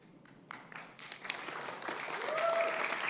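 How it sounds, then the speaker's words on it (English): Audience at a Web3 ecosystem launch event applauding, a few scattered claps at first swelling into fuller, louder clapping from the crowd, with faint voices mixed in. "Give yourselves a round of applause"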